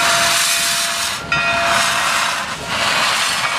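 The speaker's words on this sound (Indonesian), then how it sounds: "Yang ini kereta api." A loud train hisses with steam, a continuous rushing roar with a faint whistle-like tone and a brief dip midway.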